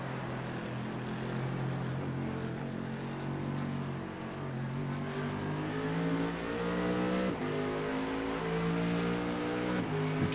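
Onboard view of a race car lapping Suzuka in a racing video game, its engine droning loudly and continuously with rising pitch sweeps through gear changes, no voices.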